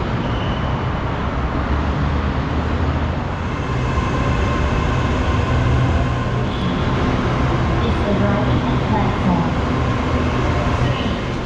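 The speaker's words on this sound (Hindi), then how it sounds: "ये मेट्रो ट्रेन है, नॉर्मल ट्रेन नहीं है।" A steady loud rumble and roar of a metro train running in Thailand, with constant rolling noise throughout.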